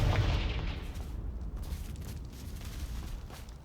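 The Confringo blasting spell explodes in Hogwarts Legacy, a loud booming blast at the start that decays into a long rumbling roar.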